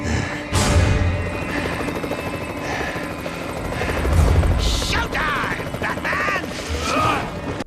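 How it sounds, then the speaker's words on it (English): News helicopters hover in Batman: Arkham Asylum, a loud, steady rotor thumping and engine drone throughout, with distorted voices and electronic effects layered over it. "Outside, news helicopters gather to cover what is about to unfold"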